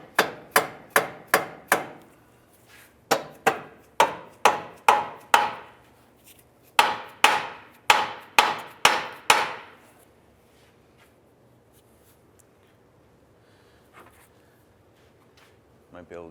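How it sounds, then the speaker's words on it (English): Rubber mallet strikes a control arm bushing into the subframe of a 2005-2012 Honda Civic: three quick bursts of sharp, close knocks, five to six blows each, then quiet. "use our rubber mallet and just kind of bonk this around and get this to line up"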